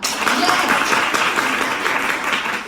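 Classroom audience clapping during a colour-ball game at a talk, steady dense applause filling the whole stretch with a voice faintly mixed in.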